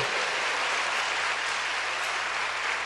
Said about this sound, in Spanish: Pues démosle un aplauso a San Miguel.